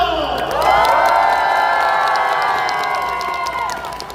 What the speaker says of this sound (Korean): 헌재를 위해 뜨거운 응원의 박수를 주십시오